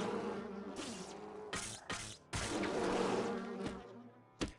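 Wasp nests buzzing in the fantasy video game Nox give a dense, continuous insect drone, fairly loud and close, broken by several brief sharp thuds and crackles with no one talking.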